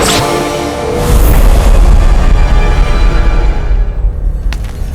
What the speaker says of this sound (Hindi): तीसरी गोली चल गई है पत्ता।